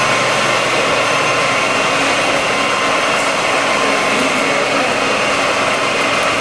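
A Lodge & Shipley 24-inch by 78-inch engine lathe with a 21-inch 4-jaw chuck spins at 173 RPM, giving a steady, loud broadband whir and hum that holds level throughout with no talk.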